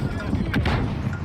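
Airstrike explosions in a video game, heard as a brief burst of booming blasts mixed with game noise and a voice talking over it.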